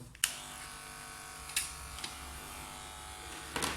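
An inexpensive electric hair clipper fitted with a 3 mm comb hums steadily and quietly, with a few clicks and knocks as it is handled.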